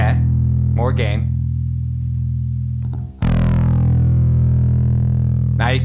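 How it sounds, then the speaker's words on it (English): A bass guitar played through a Boss ODB-3 overdrive pedal with the gain turned up holds loud, gritty sustained notes, with a brief pause before a fresh note is struck and rings on. "Now you can start to hear it, the distortion lasting longer."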